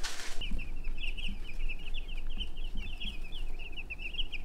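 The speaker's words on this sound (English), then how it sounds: "we're gonna take a look at this year's meat birds" Week-old meat bird chicks kept in a garage, a continuous chorus of high, thin peeping chirps close by, after a short burst of noise at the start.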